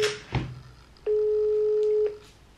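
A single long telephone ringing tone sounds on an outgoing call, about one second long and clear, after a short click and a thump.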